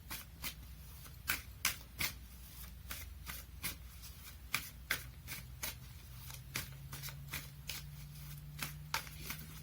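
Tarot cards are shuffled by hand in a quiet room, giving a rapid series of crisp riffling flicks and soft slaps in irregular bursts, close up and with no talking.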